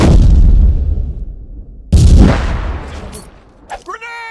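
Grenade blasts in the shooter game Ironsight: a heavy, booming explosion rolling off at the start, a second close, loud blast near the middle with a long rumbling decay, then a short burst of game voice chatter.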